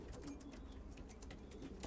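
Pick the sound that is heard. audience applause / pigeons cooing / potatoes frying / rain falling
pigeons cooing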